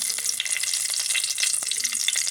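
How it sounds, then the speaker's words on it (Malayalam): Fenugreek seeds splutter in hot oil with rapid, crackling pops over a bright, constant sizzle, close and fairly loud. "ചൂടാക്കിയ എണ്ണയിലേക്ക് നമ്മളൊരല്പം ഉലുവയിട്ട് പൊട്ടിക്കുകയാണ്."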